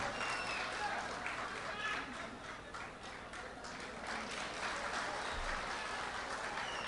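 Audience applause welcoming a chief guest at a Nepali youth club musical programme in Jeddah, Saudi Arabia, steady dense clapping from a crowd that dips slightly midway, fairly distant and continuous for several seconds.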